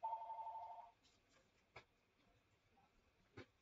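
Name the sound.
telephone ringing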